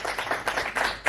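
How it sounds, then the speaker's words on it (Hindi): Clapping from the audience at a Hindi poetry gathering, uneven bursts of hand claps from a small nearby crowd lasting about a second. "जोरदार तालियां।"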